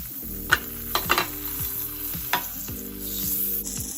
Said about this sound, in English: I'm going to let the butter melt down